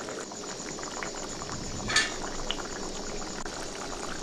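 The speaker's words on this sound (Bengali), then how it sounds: "তো আমাদের মাছ ফুটছে টকবক করে" A vegetarian mock fish curry in hot water boils in a pot with a soft, continuous bubbling that stays fairly quiet. A single brief clink of a utensil cuts through midway.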